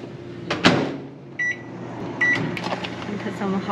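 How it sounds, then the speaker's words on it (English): A microwave oven in a 7-Eleven cafe in Myeongdong, Seoul, heating skewers: a clunk of the door, two short beeps and a low hum, with people talking nearby. "you put it in the microwave for about 30 seconds"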